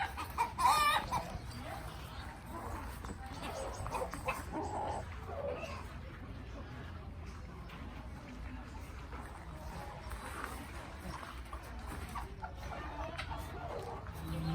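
Adult chickens cluck and squawk faintly in a farmyard in Asheville, North Carolina, with a brief louder call at the start and steady background noise, a voice speaking over it.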